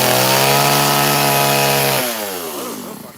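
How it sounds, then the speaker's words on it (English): Chainsaw roaring at high revs during wood carving, loud and close with a steady whine, then dropping in pitch as the engine winds down near the end; no voices. "Watch that chainsaw fella."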